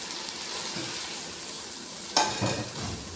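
Potatoes go into a pan of frying chicken, setting off a steady sizzle with a sharp clatter and a burst of louder frying partway through, then continued stirring; no talking.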